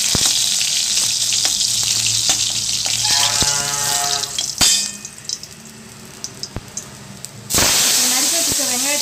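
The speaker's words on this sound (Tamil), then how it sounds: "இப்போ பூண்டை போட்டு வதக்கிக்கங்க." Garlic sizzles and fries in a hot pan with oil, a steady crackling hiss that briefly dips midway, then flares up loudly again near the end.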